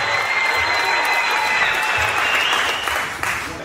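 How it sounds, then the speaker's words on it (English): An audience claps loudly for artist S.C. Static as he is brought up for his Hall of Fame induction, a dense, continuous round of applause that tapers off slightly at the end. "Give him a round of applause."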